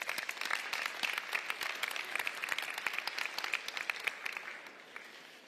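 An audience applauding steadily, many hands clapping in a dense patter that gradually fades toward the end.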